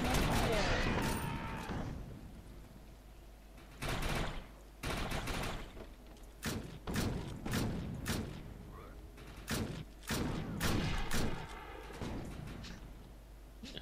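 Repeated loud shotgun blasts in the co-op shooter game Defiance, fired in short irregular bursts with brief gaps, over a constant game background and a stretch of noisy action at the start.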